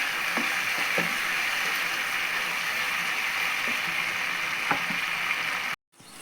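Tomato pieces softening in a hot pan, giving a steady close sizzle with a few soft scraping knocks, ending in a sudden brief cut to silence.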